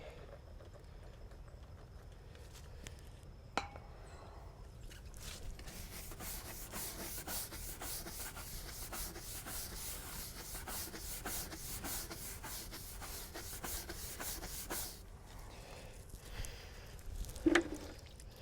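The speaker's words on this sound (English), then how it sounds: "Let me try it with a scrub brush, so I'll see." Scrub brush working acid cleaner into a stained fiberglass boat hull, a steady close rubbing and scraping that runs for most of the stretch, with a few sharper knocks and a brief pause near the end.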